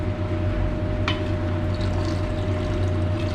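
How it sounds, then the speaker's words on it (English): Rinse water from distilled-water washes of refined silver crystals poured into a beaker holding copper, a steady close liquid pour with a low continuous hum beneath it. "And just pour that rinse water"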